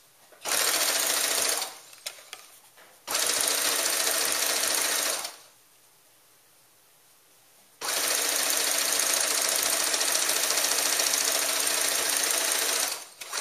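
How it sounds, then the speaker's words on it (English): A sewing machine stitches fabric pieces together in three loud, steady bursts of rapid mechanical whirring, separated by short pauses, with no voices. "And sew down."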